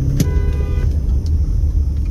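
Saturday-night road traffic on the Las Vegas Strip: a continuous low rumble of cars and engines close by, with a short tonal horn-like toot near the start.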